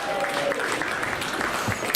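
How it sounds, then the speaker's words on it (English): A rugby crowd claps for a junior player at a Wairarapa Bush versus Thames Valley match, a broad, steady wash of applause lasting throughout with some chatter mixed in. "Jerry Jr. gets a huge clap from the crowd"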